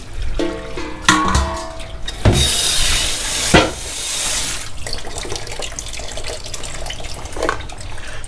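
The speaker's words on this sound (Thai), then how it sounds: "เราเทน้ำออกนะครับเพื่อน ๆ แล้วเราจะล้างเขาหนึ่งน้ำนะครับ" Soaking water is poured off potatoes cut for French fries, which are then rinsed once: a steady, loud rush and splash of water in a kitchen, with clinks and knocks against the container.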